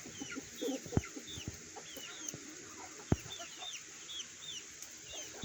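Backyard chickens cluck softly in scattered bursts, with occasional sharper squawks and nearby thumps, all fairly quiet and close at hand with no talking.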